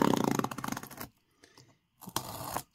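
Blade slicing through a cardboard box with quick, rapid scratchy tearing strokes, then a pause with faint rustling and another short burst of cutting, close and fairly quiet.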